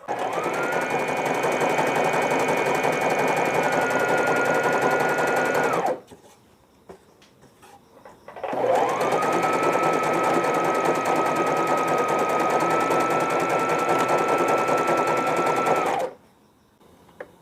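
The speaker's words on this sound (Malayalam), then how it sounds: "ബാക്ക് സൈഡ് ഞാൻ ലോങ് സ്റ്റിച്ച് ഇട്ടിട്ട് ചുരുക്കുകയാണ്" A sewing machine runs long gathering stitches on fabric for a dress, two sustained fast whirring runs of about six and eight seconds separated by a short quiet pause with light handling noises, close and loud.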